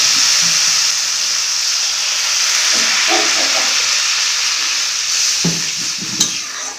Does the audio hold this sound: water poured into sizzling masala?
yes